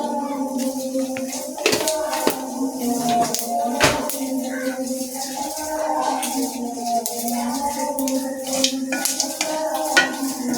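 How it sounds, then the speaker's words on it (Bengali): A dry wooden stirrer scrapes and knocks against a pan while cumin tempering crackles softly in oil. The clicks and taps come in an irregular rhythm, close up, with faint background sounds. "একটা শুকনা কাঠের জিনিস দিয়ে এটা নাড়তে হয়।"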